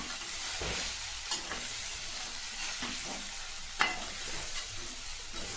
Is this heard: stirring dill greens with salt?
yes